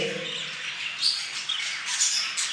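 Jumbo budgerigars squawk and chirp in short, scratchy bursts, fairly soft and close together, with no talking.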